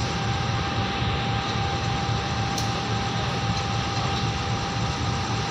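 A KRL commuter train near Pasar Senen station at night produces a steady broad rumble and roar, constant and moderately loud throughout, without voices.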